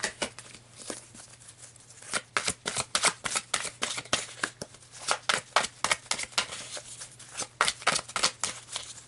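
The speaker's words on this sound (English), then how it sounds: "So let's pull some more cards," Tarot cards are shuffled and pulled from the deck, giving a close series of rapid riffling flutters and crisp snaps in uneven bursts, with no talk.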